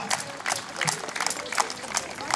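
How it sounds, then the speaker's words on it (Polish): Applause from an audience at a knights' tournament at Golub Castle, greeting the castle's castellan: a dense, steady patter of many hands that swells in rolling waves, fairly close and continuous throughout. "Brawa dla pana kasztelana!"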